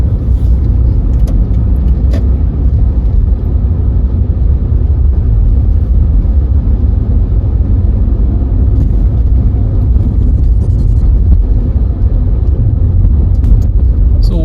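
Inside a car driving along Northridge Drive in Saskatoon during a driving test, a constant, loud road and engine rumble holds steady throughout, with no voices.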